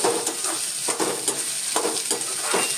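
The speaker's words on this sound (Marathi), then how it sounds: "कच्चेपणा मोडेपर्यंत परतून घ्यायचा आहे" Spring onion greens sauté over medium heat in a pan, a continuous close sizzle punctuated by rhythmic scraping strokes of a spatula roughly every half second.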